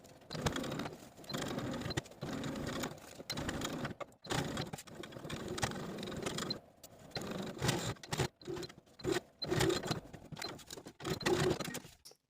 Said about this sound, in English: We're going to stitch all along the bottom, the sides, and the top with the 1/8 of an inch seam allowance.